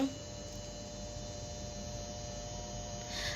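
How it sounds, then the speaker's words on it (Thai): A steady electrical hum from an air conditioner, with a constant tonal drone and broadband hiss, holding evenly throughout with no talk. "ทำไมแอร์มันร้อง"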